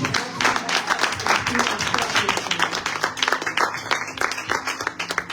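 Congregation at a prophetic church service applauding, a dense steady wash of many hands clapping for several seconds with crowd voices mixed in.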